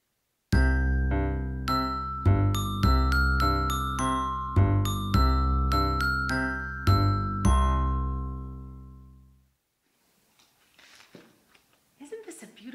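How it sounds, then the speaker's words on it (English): A doorbell-style chime plays a melodic run of bright ringing tones that decay, then stops, followed by faint talking. "The doorbell."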